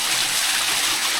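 Stream water rushing steadily near a waterfall at night, a continuous broadband hiss and gurgle with no pauses, close and fairly loud.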